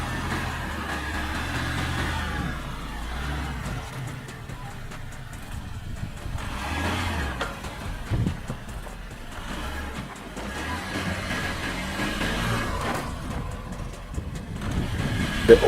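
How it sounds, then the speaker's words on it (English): An Audi Q8 SUV crawls across a diagonal suspension test rig. A low, fairly quiet engine hum rises and falls in a few gentle swells, with some faint mechanical clatter and no talking. "The car passes the diagonal suspension with minimal wheel slip."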